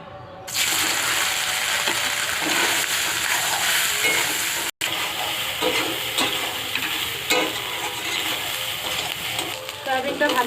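Soybean chunks fry in a hot pan and are stirred, producing a loud continuous sizzle close by, with scraping and a brief cutout partway through.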